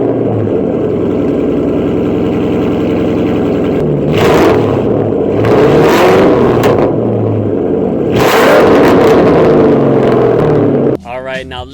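Rumbling idle from a 2005–2009 Ford Mustang fitted with a Roush Extreme axle-back exhaust and off-road X-pipe, broken by three sharp, loud revs close by, with the engine cutting off at the end.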